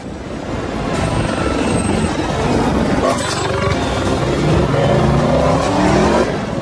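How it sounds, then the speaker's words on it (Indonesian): Two helicopters chase a car in a movie action scene, a loud steady rotor and engine roar with revving car sounds surging across it, and no talking. "Dom dihadang oleh 2 helikopter yang ingin menghancurkan mobilnya ke sungai"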